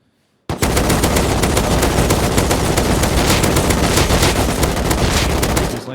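Sustained automatic gunfire from a video game weapon during a recoil test, a loud, continuous rapid burst of shots running unbroken for several seconds with no talk over it.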